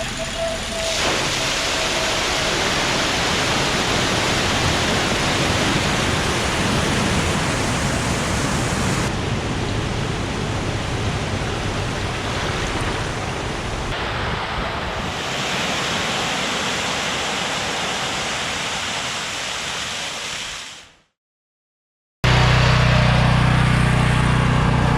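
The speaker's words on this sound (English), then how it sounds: "time to sluice all the mud out of the bottom of the dock." Water sluicing mud out of the bottom of a dock, a loud continuous rushing wash that runs steadily for about twenty seconds, briefly cuts to silence, then returns with a lower rumble.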